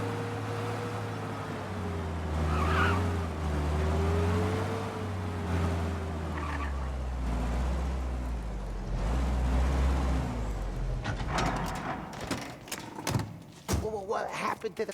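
A car engine hums and rumbles steadily in the Mafia: Definitive Edition video game, with a low drone under game dialogue, followed by clunks and knocks near the end.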